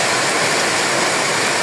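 Heavy rain pours down on a wet, stormy day, a loud and unbroken hiss of water that stays steady throughout with no pauses.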